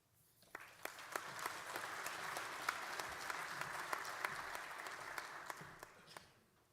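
Audience applause at an Icelandic municipal association conference, a sustained round of clapping with a few sharper individual claps standing out, rising and fading at the edges.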